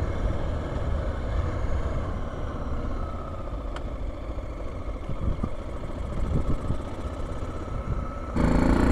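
A motorcycle rides through Rotterdam city traffic, filtering between lanes, its engine a steady, close drone under wind rush with a few brief sharper passing sounds.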